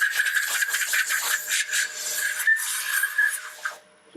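Sandpaper rubs steadily against a small wood-turned ornament spinning on a lathe, sanded up to 600 grit, a close continuous raspy hiss with a faint motor hum beneath it that stops near the end.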